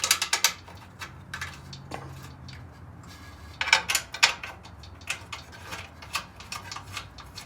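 A ratchet tightens the stock mounting bolts on a Wild Boar bumper for a Polaris Ranger 570, giving sharp clicking bursts in short runs with pauses, up close and fairly quiet, with no talking.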